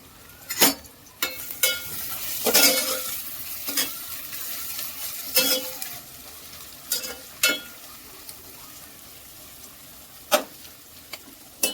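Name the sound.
onions frying in a pan until crispy brown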